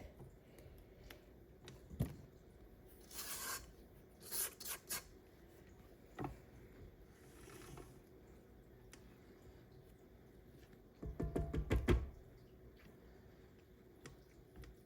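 Chocolate chip cookie dough is scraped off a stand mixer paddle in faint, intermittent rubbing and tapping strokes, with a denser cluster of scrapes near the end and quiet pauses between.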